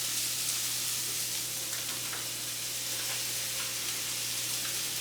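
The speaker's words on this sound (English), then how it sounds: "I'm gonna add this whole grain brown rice to my stir fry." Whole grain brown rice frying in a stir fry, a loud, steady broadband sizzle and hiss that runs without a break from start to end.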